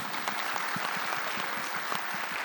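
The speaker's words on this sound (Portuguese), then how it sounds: "aos quais eu peço uma salva de palmas de agradecimento" A congress audience applauding in thanks to its supporters, dense steady clapping filling a large room at even loudness throughout.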